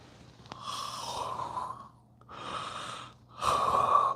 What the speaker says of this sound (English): You breathe in and breathe out.